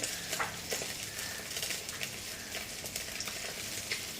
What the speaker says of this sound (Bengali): মাছটা ভাজা করে নিচ্ছে